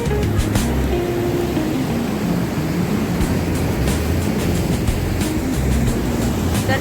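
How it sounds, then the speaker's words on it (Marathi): A fierce swollen river surging through forest in the rainy season, a loud, unbroken low roar of rushing, churning water close by, steady throughout with faint higher splashes and no voices. "हे बघा पाण्याचं रौद्र रूप बघा, किती खतरनाक पाणी इथं उसळते"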